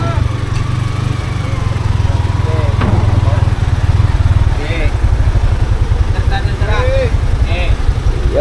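Motorcycle engine idling close by with a steady low putter, loud throughout, while people talk nearby.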